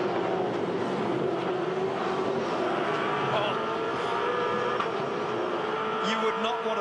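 A V8 Supercar racing through corners at the 2011 Clipsal 500, a loud onboard engine drone rising and falling with gear changes, heard under a commentator's voice.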